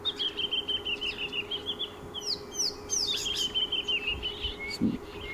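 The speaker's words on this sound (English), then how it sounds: "There seems to be a really beautiful little bird party going on here." A mixed flock of birds chirps and calls in African bush during a sunrise safari drive, repeated rapid notes and sweeping whistles over a steady engine or wind rumble.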